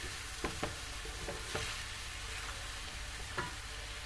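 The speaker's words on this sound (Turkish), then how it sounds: "Şimdi biberlerimi kavuracağım güzelce arkadaşlar." Peppers sautéing and stirred in a pan for Turkish menemen, a steady close sizzle with several distinct scraping stirs of the utensil against the pan spread across the clip.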